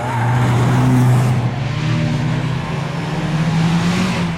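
Škoda Octavia RS 230 with a special performance exhaust system, its engine note droning steadily and rising slightly as the car pulls away, loud and close with no talking.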